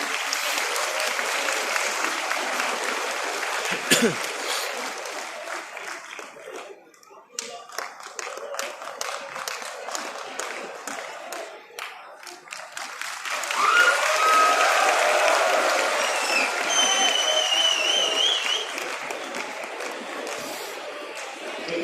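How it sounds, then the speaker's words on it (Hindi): A room full of people clapping continuously at a university career counselling event, swelling louder partway through, with a voice speaking over the applause at times. "जोरदार तालियां"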